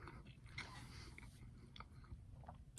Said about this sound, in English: because I'm chewing on camera